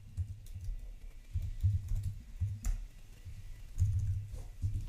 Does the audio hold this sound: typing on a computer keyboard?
yes